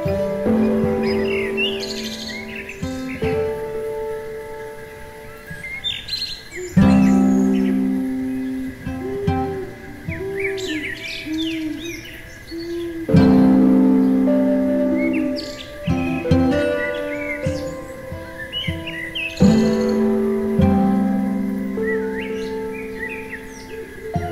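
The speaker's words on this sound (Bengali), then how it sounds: "নিস্তব্ধ নির্জনতায় পাখিদের কলতান শুনতে শুনতে এগিয়ে যেতে হবে" Birds in a quiet forest in North Andaman near mangrove creeks, with clear tweets and varied calls rising and falling in bursts over a soft insect-like background; no talking.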